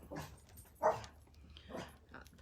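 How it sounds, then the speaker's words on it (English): A pet dog gives several short, quiet barks and yips in a home, spaced out with pauses between them, with no one talking. "Don't bark at him."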